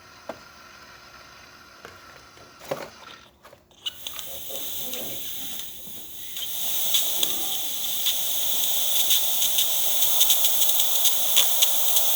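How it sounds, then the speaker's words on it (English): Steam wand on a DeLonghi Magnifica XS coffee machine after a full service starts with sputters and clicks, then builds into a steady high hiss that grows louder and stays up to the end. "And then lastly, we're going to test the steam."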